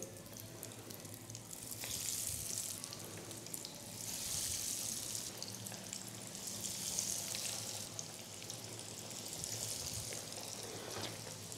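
Potato tikkis fry in hot oil in a pan, giving a continuous close sizzle and crackle that swells and eases in gentle waves.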